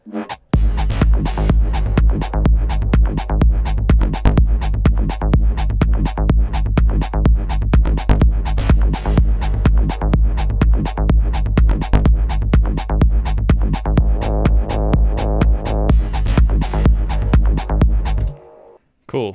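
An electronic track made in Ableton, with a sample retuned through a frequency shifter to sit in key, plays loud and steady as dense rhythmic pulses over a heavy bass for about eighteen seconds, then stops abruptly.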